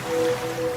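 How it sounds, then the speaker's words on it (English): Ocean waves wash in a soft, steady rush as a sound effect in a radio advertisement, continuous and fairly loud with a faint tonal hum underneath. "now you're drifting asleep to the scent and sound of waves."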